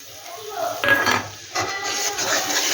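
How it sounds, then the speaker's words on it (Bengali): A spoon stirs and scrapes masala in a pan as it fries and sizzles steadily, with clinks of metal against the pan at close range. "এটা একটু ভালো করে আমি কষিয়ে নিচ্ছি এবার।"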